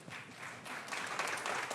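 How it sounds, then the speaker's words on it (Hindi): Studio audience clapping at a cricket talk show, a faint, brief ripple of applause that swells slightly toward the end. "ये भी मुगल है। तालियां।"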